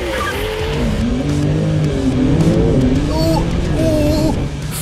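A Tesla Cybertruck launches hard in a drag race against a Porsche 911 Turbo S, its rising electric drive whine loud and steady throughout, with faint road and wind noise.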